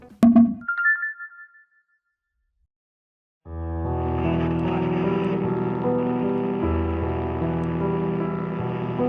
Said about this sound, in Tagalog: Ang ingay ng phone mo.